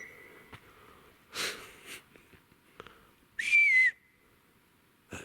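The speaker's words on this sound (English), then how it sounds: "That was the loudest whistle ever recorded in the history of the world." A loud, shrill whistle rings out in a wooded area, one sustained burst with a sliding pitch, set among sniffs, breaths and rustling close to the recorder.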